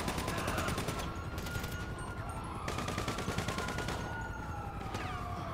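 A machine gun firing in the GTA V video game: long, rapid, unbroken bursts of loud automatic fire with short pauses between them, while a wailing siren tone rises and falls in the background.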